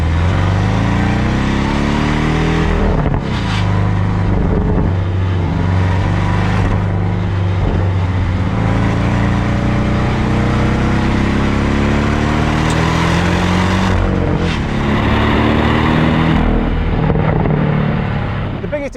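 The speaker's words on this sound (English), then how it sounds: "This is a really quite a fun sounding engine. Okay, so this has got the sports exhaust" A Porsche 718 Boxster T with sports exhaust runs loud and close, its engine note rising and falling through revs in a continuous, throaty drone with no talking.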